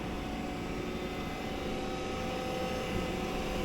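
A Fecon FMX36 excavator mulcher mounted on a Volvo EC60E runs at full throttle, a steady, dense mechanical roar with a constant hum, unbroken and fairly distant.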